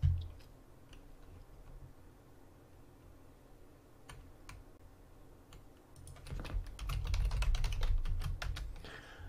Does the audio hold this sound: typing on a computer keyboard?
yes